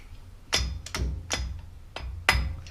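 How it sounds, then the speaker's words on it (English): A chisel is hammered against the edge of a 2005-2015 Toyota Tacoma axle dust cap, giving about six sharp metallic strikes at an uneven pace. The hits are close and clear. "I'm going to be using a chisel to get an opening from the edges"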